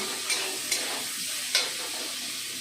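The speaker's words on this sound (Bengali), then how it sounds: "এই দেখো উচ্ছে ভাজাটা বসিয়ে দিচ্ছি।" Bitter gourd fries in a pan with a steady close sizzle, broken by three sharp scraping clicks of stirring over nearly three seconds, with no talking.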